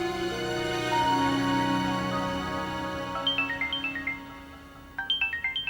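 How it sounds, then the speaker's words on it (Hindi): A melodic phone ringtone plays in rapid repeated chirping bursts, starting after a stretch of sustained music and pausing briefly before ringing again. "किसका फोन है?"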